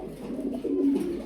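Lahori pigeon cooing close by, a low rolling coo swelling and fading over a soft, steady background, with no voices.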